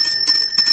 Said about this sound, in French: ça sont petits cloches, ça sont petits cloches